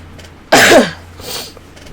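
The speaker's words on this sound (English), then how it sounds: "Excuse the sniffing and the bunged upness and the coughing as well." Someone with a cold lets out one sharp, close cough, followed by a softer sniff-like rush of breath a moment later.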